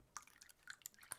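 Water poured into a glass, a few soft, quiet drips and splashes in short bursts over a hushed room, no talk.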